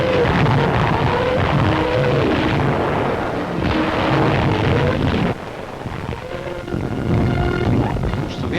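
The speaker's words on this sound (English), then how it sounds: "Through the TSF, the order is given to start the rocket guns." Rocket guns fire in a 1944 German newsreel on the Russian front, heard as a continuous heavy rumble of blasts and booms with a harsh, dense texture, dipping briefly before building again.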